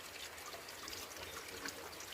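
Water flows from a small tube fed by a waterfall on a cardamom estate, making a faint, steady trickle and splash with a continuous hiss and no voices.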